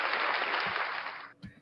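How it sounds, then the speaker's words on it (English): Applause from a comedy show audience for an ailing performer, a steady broad wash of clapping that holds loud for over a second and then cuts off abruptly, followed by a couple of brief low thumps. "A round of applause for Cupcake."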